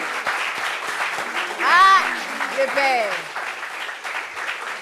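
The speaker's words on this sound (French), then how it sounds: "on applaudit pour lui" Studio audience applause for a guest on a talk show set, a steady bed of clapping running the whole time while people talk and exclaim over it.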